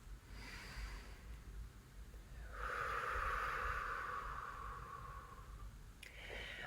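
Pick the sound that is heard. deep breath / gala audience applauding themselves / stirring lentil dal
deep breath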